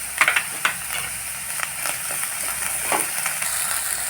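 Onions frying in a pan for potol posto as ginger-garlic paste goes in, a steady close sizzle with a few sharp crackles and stirring scrapes near the start.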